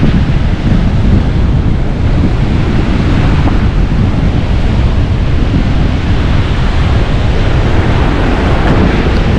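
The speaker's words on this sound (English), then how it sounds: "I don't think I'd fancy going out in these rough seas" Rough sea waves break and roar continuously on Laganas Beach, a dense, loud wash of surf mixed with heavy wind buffeting the microphone, no voices.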